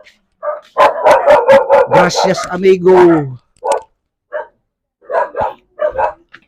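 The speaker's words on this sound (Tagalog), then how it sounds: "Yan ang lugar na maraming aso." Several dogs bark in quick bursts nearby, with a voice speaking briefly between the barks.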